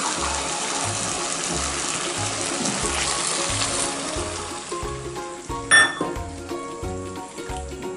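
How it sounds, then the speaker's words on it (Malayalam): Brinjal masala gravy with tamarind and added water bubbles and sizzles steadily in a pan with a close, constant frying hiss. A soft rhythmic low pulse repeats underneath, and there is one brief clink. "ഒന്ന് തിളച്ച് വരട്ടെ ഇത്."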